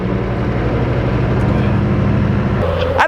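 Koenigsegg Agera R supercar driving at low speed, a steady low engine drone with rumbling harmonics throughout, shifting pitch briefly near the end.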